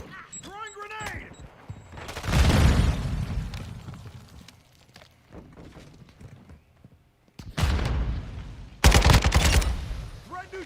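Grenade explosion and bursts of gunfire in Call of Duty Modern Warfare II, with a loud blast followed by rumbling, then sharp repeated automatic fire later on, near and loud, with a short voice at the start.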